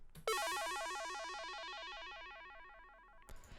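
A bright Omnisphere synthesizer pad, the Sid Happy Fall preset, swells in and sustains with a rippling, descending arpeggiated shimmer, slowly fading over a few seconds before cutting off.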